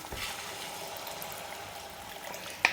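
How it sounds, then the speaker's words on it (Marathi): Water pours into a pot of spicy village-style amti curry, a soft, steady trickling stream at low level with a small knock near the end. "तर आपण पाणी टाकून घेऊ."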